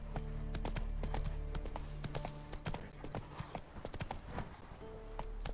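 The horse Roach gallops in The Witcher 3, a fast, steady clip-clop of hooves up close that carries on without a break under a constant game background.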